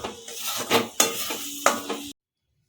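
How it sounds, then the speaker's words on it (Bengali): Peanut halwa is stirred in a pan, with a few loud scraping and clattering strokes of a utensil against the metal over a faint sizzle, ending abruptly in silence. "আমি একটু নেড়ে চেড়ে দেবো"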